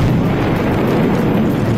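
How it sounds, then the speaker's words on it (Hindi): A Japanese rocket engine explodes during a test as a loud, sustained rumbling roar dense with low-end energy, unbroken across the whole moment. "टेस्ट के दौरान वो रॉकेट इंजन फट पड़ा"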